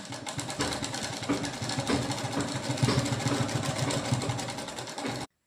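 Sewing machine running steadily while stitching a half-inch folded fall onto the edge of a saree, a continuous close whirring hum that stops abruptly near the end.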